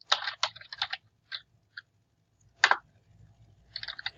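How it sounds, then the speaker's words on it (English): Someone types an email subject line on a computer keyboard, with short bursts of quiet clicking keystrokes separated by pauses and a final flurry at the end, close and alone. "And then I'm going to type in my subject."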